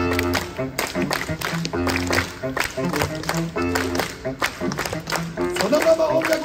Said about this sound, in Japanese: では一緒に手拍子いきますよ。